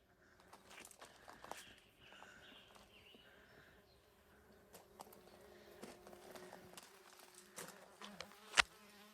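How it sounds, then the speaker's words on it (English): Faint, steady buzzing of many bees working California lilac (ceanothus) flowers in an open garden, with scattered soft knocks and one sharp tap near the end. "All the bees working this California lilac ceanosis."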